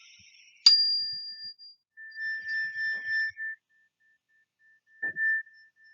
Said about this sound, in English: when you hear the chime bar ring, take a deep breath in and a deep breath out